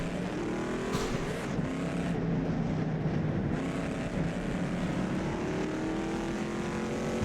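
A 1964 Shelby Daytona races around the Südstrecke in rFactor 2, its engine a loud, continuous roar that holds steady throughout with shifting pitch and no pauses.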